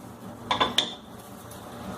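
A heavy iron kadhai is set down on a gas stove, producing two or three quick, close metallic clanks in a quiet kitchen.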